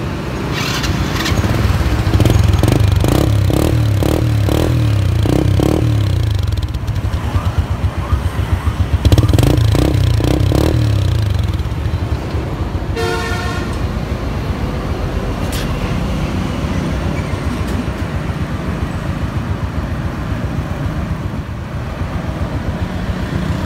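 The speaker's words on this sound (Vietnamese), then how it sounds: "bây giờ anh em nghe tiếng máy nha" A used 2007 Honda Wave RS motorcycle engine idles nearby with a steady rumble, revving up twice in short bursts before settling back to a lower, even idle.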